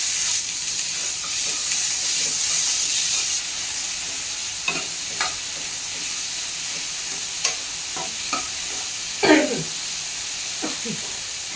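Pulses fry in oil in a pan with a steady sizzling hiss, while scattered scrapes and light knocks of stirring come and go close by.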